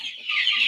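Broiler chickens on a poultry farm, with birds being weighed at around a kilogram, give a short burst of close, steady clucking with no voices.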